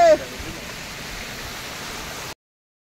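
A large waterfall near Madhupur and Deoghar gives a steady, broad, even rush of water that continues for about two seconds and then cuts off abruptly.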